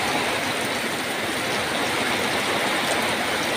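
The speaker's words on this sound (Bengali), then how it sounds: "ওই দেখেন বিলে মোটামুটি এখন পানিতে কিন্তু বইরা যাইতেছে আস্তে আস্তে" Water flows slowly across a flooded wetland after rain, making a steady, continuous broadband rush with no breaks and no voices.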